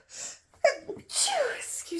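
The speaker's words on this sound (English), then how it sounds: "Oh, I think I'm gonna sneeze." A person sneezes once, loud and close: a quick sharp intake of breath, then the burst, with breathy vocal sounds right after.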